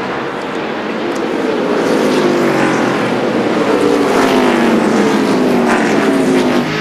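NASCAR stock cars roaring past on track during the 2002 Virginia 500, a loud continuous engine drone with sweeping pitch shifts as the field of lead-lap cars streams by, no talk over it.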